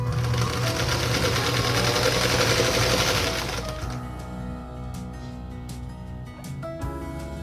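A sewing machine stitches pink and green 2.5-inch quilt squares together with a quarter-inch seam, a loud, fast continuous whir that eases into lighter, irregular clicks and taps of handling near the end.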